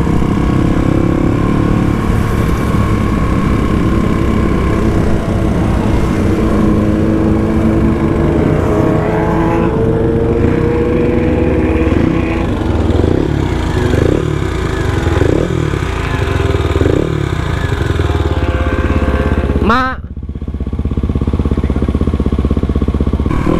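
A motorcycle engine drones continuously on a Sunday-morning group ride, close and loud, its pitch rising and falling with throttle changes and a brief dip late in the ride before it picks up again.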